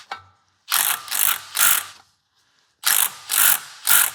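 A hand ratchet tightening the shifter bolts on a Chevrolet Camaro SS clicks in quick, close bursts, three strokes, a short pause, then three more, each a rapid run of sharp pawl clicks.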